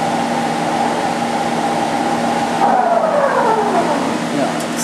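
A Hwacheon Hi-Tech 700 lathe spindle stops under active braking, its steady motor whine and hum dropping in pitch as it slows, loud and close.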